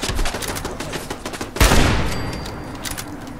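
An automated turret in Fallout 4 rattles off a rapid stream of gunshots, then a single heavy, loud blast with a long ringing decay, close and unaccompanied by talk.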